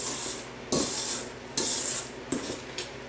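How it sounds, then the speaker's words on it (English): A spatula scrapes down the sides of a bowl of cookie dough in four distinct rasping strokes, each sharp and close, with short pauses between them and no talking. "I'm going to scrape down the sides here."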